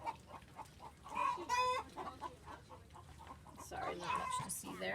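Broody chickens cluck and squawk in a lively, overlapping chorus on a farm, close by, with a few louder calls rising above the steady background chatter.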